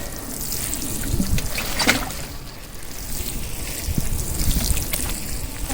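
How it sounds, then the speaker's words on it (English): Water trickles and splashes steadily onto newly planted Shasta daisies and penstemon in a garden bed, a soft continuous pour with slight swells and no talking. "So here I'm going to water these, give them a good drink."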